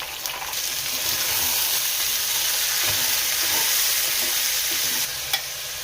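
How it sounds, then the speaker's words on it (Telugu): Soaked black-eyed peas added to brinjal and onion already frying in a pan, a loud, continuous close sizzle that fades slightly near the end, with a faint clatter. "వంకాయ ఉల్లగడ్డ కొంచెం వేగిన తర్వాత ఇప్పుడు అలసందలు యాడ్ చేసుకుంటున్నాం"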